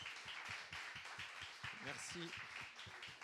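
A church congregation applauds the decoration team, a brisk patter of clapping from many hands filling the room, while a voice speaks briefly over it.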